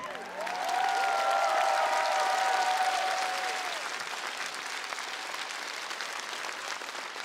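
A concert audience bursts into applause, dense hand clapping swelling quickly, holding strong, then easing to a steadier patter, with a brief tonal sound over the start.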